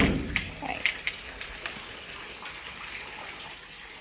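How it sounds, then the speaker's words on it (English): Steady rain pours down during a tropical storm, with water flooding around an outdoor box and deep well, a continuous hiss of falling drops with a few sharper splashes near the start. "Rainy days again."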